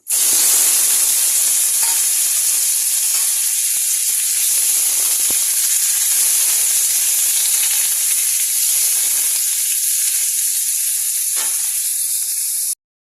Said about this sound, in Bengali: এবারে আমি পনিরটা একটু ভেজে নেব।